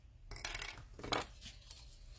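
Scissors snipping scrapbooking paper at close range: a few quiet, crisp cuts, with a faint metallic click among them, in a hushed room.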